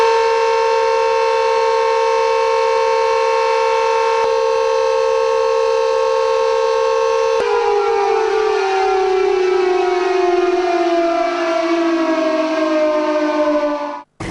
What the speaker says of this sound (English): the dignitaries paid respect to the Mahatma by standing in silence for 2 minutes while the siren wailed